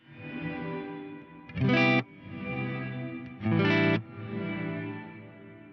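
Eventide Blackhole reverb pedal with resonance and modulation set, the depth around halfway and a little rate, giving a wide, shimmering, gently wavering wash of guitar chords, with two louder, brighter strummed bursts rising out of the sustained swell.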